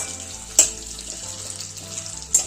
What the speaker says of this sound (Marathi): तुपात आता हे परतून घ्यायचे.